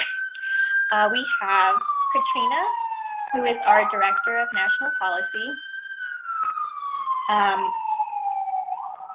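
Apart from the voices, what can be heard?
emergency vehicle sirens in the background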